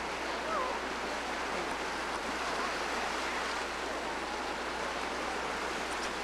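Ocean waves at a beach on a hot day, a steady, fairly loud wash of surf blended with wind noise, continuous and without distinct breaks.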